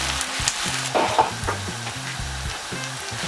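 Onions sautéing in a pot for a Nigerian vegetable sauce, a close, continuous sizzle with occasional stirring knocks, heard alone without talk.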